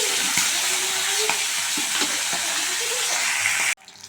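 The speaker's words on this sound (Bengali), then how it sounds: "তেল গরম হয়ে গেছে, মাছের মাথাটা আমি ভেজে নেব।" A hilsa fish head frying in hot oil gives a loud, steady sizzle with a few scrapes of stirring, then cuts off abruptly near the end.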